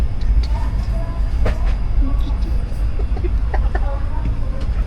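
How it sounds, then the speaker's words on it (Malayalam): Steady low rumble of a train in motion, with faint clanks and rattles rising above a continuous rolling drone. "ട്രെയിൻ നീങ്ങുന്നു ഗൈസ്"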